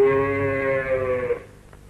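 A comedic cow moo, a long drawn-out lowing call for a cow grazing on a hill, sounding close and loud for almost one and a half seconds before breaking off.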